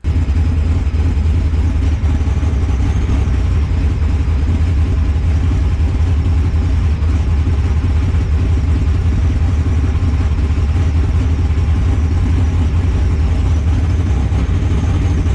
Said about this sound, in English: pop it in reverse, grab the trans brake, and start backing up